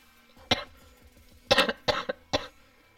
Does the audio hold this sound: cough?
yes